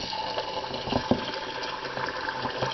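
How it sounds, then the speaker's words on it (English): Water poured from a tap or jug into a pot of rinsed, drained rice, a steady close filling gush with a few small splashes, no voices. "Now I'm going to add the water."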